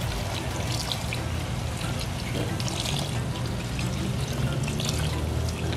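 A steady stream of water pours continuously into a cooking pot of stewing wild hog with a bright splashing trickle, close by, filling the whole stretch without pause.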